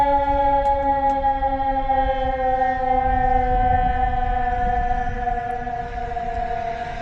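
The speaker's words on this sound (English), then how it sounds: "That's a weird siren sound." A siren wails with a steady sustained pitched tone at a construction site during concrete flatwork and rebar prep, audible throughout over low rumbling background noise.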